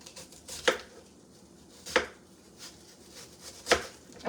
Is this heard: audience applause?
no